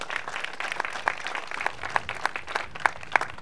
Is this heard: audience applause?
yes